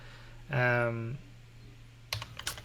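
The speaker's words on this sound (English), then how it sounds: "Who's typing?" Computer keyboard keys clicked in a quick cluster of taps close to a microphone during an online chat, following a steady hum and a short tonal sound.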